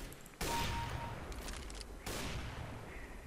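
Counter-Strike GO gunfire comes in two sharp, loud shots about a second and a half apart, each trailing off into a long echoing tail over a busy game background.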